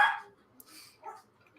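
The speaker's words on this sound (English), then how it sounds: "it's our 2 dogs and then 2 other dogs, which means I basically live among a pack of wild wolves" Dog gives a short bark followed by a few faint yips and whimpers, moderately close in a quiet room, with no talk over it.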